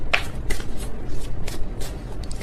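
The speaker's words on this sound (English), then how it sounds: "That was kind of a sloppy shuffle" A deck of tarot cards is shuffled by hand: a close, loud, continuous papery riffling and flapping with quick repeated bursts throughout.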